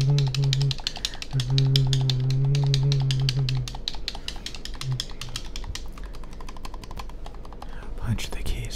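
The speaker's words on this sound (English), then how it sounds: "Punch the keys for God's sake." Fast, aggressive keyboard typing in an ASMR setting, a dense stream of sharp key clicks running throughout, loud and close, with a voice talking over the first few seconds.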